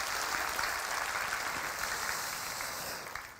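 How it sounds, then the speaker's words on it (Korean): Congregation applauding during a Sunday worship service in a Korean church, an even wash of clapping from the pews that holds steady and then begins to taper off. "좋으신 하나님 앞에 박수로 영광을 돌려드리겠습니다"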